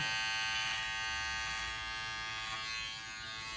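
Electric hair clipper buzzing steadily and close up while cutting around the ear during a taper haircut, with no talking.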